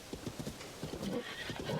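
Wild horse whinnying in Zelda: Tears of the Kingdom, several rising neighs in quick succession over steady hoof clip-clops, close and fairly loud with no talk.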